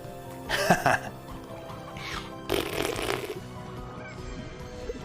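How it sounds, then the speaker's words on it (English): A video game jetpack fires in a few rough, fart-like sputtering bursts, the first and last lasting under a second each, with a fainter puff between them over a steady low background. "Why does the jetpack sounds like fart?"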